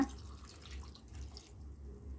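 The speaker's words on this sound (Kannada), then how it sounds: "ಎಷ್ಟು ಬೇಕಷ್ಟು ನೀರು ಹಾಕ್ಕೊಳ್ಳೋಣ." Water pours into a pot of vegetable dal holding potato, brinjal and tomato: a faint, steady trickle with soft splashing that lasts the whole short moment.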